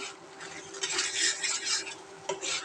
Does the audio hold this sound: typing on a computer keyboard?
no